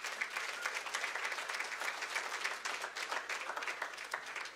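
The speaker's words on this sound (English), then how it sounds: "Let's give the Lord a clap offering." A church congregation claps together in a steady, moderate wash of applause that holds for several seconds without talk.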